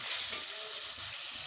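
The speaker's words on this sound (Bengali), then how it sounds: "এবারে ভালোভাবে কষে নেব।" Fried potatoes sizzle and hiss steadily in hot oil for a Bengali katla fish curry, with light stirring audible throughout; close, continuous, and without voices.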